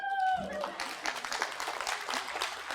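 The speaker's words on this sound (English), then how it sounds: "Now clap." Audience applause at a school opening-day keynote: a dense, sustained burst of clapping that rises right after a short spoken line and carries on steadily to the end.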